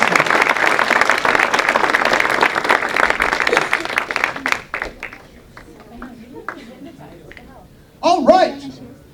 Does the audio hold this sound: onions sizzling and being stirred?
no